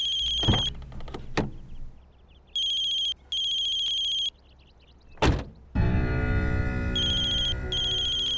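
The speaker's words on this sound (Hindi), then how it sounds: "करण का कॉल आ रहा है" An incoming call sets off a phone ringtone in short repeated bursts of bright electronic tones, broken by a few heavy thuds and ending in a denser swell of music, with no speech.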